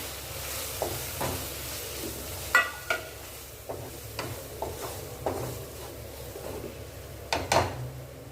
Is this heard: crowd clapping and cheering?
no